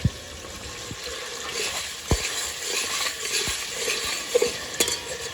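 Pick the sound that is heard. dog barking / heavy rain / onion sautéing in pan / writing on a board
onion sautéing in pan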